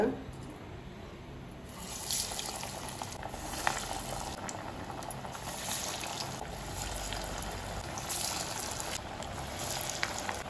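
Vada batter sizzling steadily in hot oil in a kadai, a dense continuous crackle close by, with faint voices underneath.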